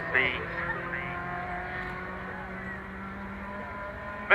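Race cars from the MG Owners Club field at Croft circuit in 2016 rumble steadily past a trackside spot in a continuous engine drone, with a public-address commentator talking over the noise.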